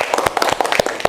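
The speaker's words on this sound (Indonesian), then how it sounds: "Tepuk tangan dulu untuk kita semua ya." A class of students applauding after group presentations in a nursing training lesson, a short, dense burst of close hand clapping with no pauses.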